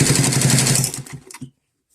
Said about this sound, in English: then just sew with my straight stitch,